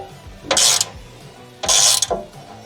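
A screw is loosened on the left exterior door of a Mercedes Sprinter van. Two short, loud bursts of rapid mechanical clicking, like a ratcheting driver, are separated by quiet.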